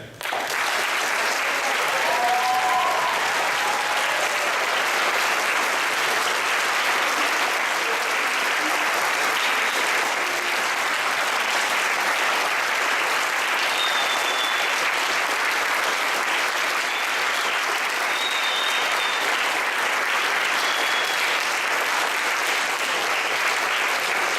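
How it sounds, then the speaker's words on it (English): A ceremony audience at an All-American Bowl marching band event applauds the U.S. Army, with long, sustained clapping from a large crowd that stays dense and steady, with a few faint whistles above it. "Let's give a big round of applause to the U.S. Army, and in particular, the members of our Army here today."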